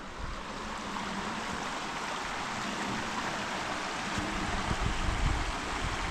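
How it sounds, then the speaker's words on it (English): A river in the Dovedale valley of the Peak District flows with a steady, broad rushing and babbling wash, close and continuous, with no voices. "Made it back down to the river."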